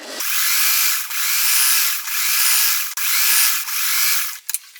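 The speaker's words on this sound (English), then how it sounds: "I'm just going to sew." A sewing machine stitches denim and muslin quilt strips in a loud, continuous high whir, running in several long bursts with brief dips between them and a few clicks at the end.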